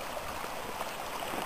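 Faint, steady rush of hot spring water flowing out of the ground and down the mountain at Snively Hot Springs on the Owyhee River, a soft continuous babble with no voices.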